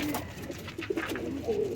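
An old golden pigeon coos softly nearby, giving a few low, throaty coos in quick succession against quiet background noise.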